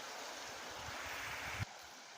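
River water flowing in a rural village stream, a faint, steady broadband rush of water that cuts off abruptly near the end.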